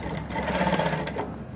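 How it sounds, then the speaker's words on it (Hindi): Sewing machine stitching fabric for palazzo pants, a close, steady whirring run of rapid needle strokes that stops abruptly near the end. "अब ध्यान से देखना इस सिलाई को मैं कैसे लगा रहा हूँ।"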